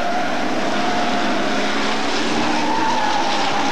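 Hot stock cars race past on the Birmingham oval, engines roaring loud and continuous with a steady droning rise and overlapping wash of several cars for nearly four seconds.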